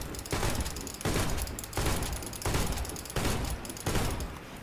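A shotgun in the video game Warface fires five loud, booming blasts at a steady pace under a second apart, each with a short crackling tail and no talk.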